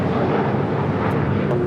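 JetBlue Airways Airbus A321 taking off from LAX: a loud, steady, broadband jet engine roar filling the whole moment with no pause.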